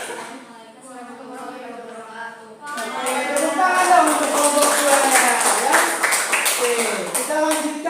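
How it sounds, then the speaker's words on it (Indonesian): A classroom group applauding a student presentation. Voices talk first, then a burst of clapping from many hands starts partway through and carries on under continued chatter. "tepuk tangan dong untuk kelompok 2 ya"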